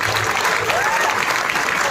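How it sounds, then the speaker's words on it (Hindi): An audience at a Jashn-e literary session with Dia Mirza, Atika Farooqui and film producer Elahe Hiptoola breaks into sustained applause, a dense, even wash of many hands clapping for the full stretch. "एक जोरदार तालियां अतिका के लिए प्लीज"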